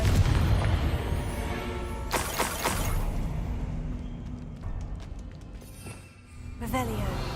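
Confringo spell blast in Hogwarts Legacy, a sharp booming burst followed by crackling impacts and clinks over a continuous rumbling game backdrop, with a second burst near the end.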